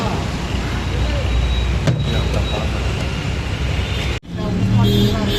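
Road vehicle pulling away after passengers board, on a journey from Chennai to Tirunelveli and Kulasekarapattinam; a steady loud rumble of engine and road noise fills the scene, with a brief dropout near the end before the drone resumes.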